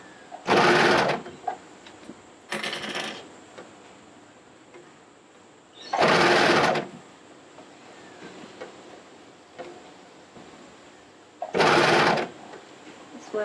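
An overlocker runs in four separate loud whirring bursts, each about a second long with quiet pauses between, as it stitches through three layers of rashie fabric.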